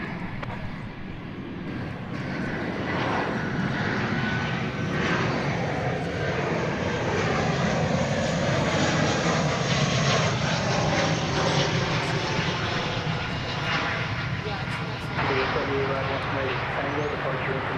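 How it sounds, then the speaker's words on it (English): Engines of an Airbus A319 jet at DFW Airport roar loudly and steadily, building slightly toward the middle, while a person talks over the noise. "A319, little teeny tiny brother of the A380"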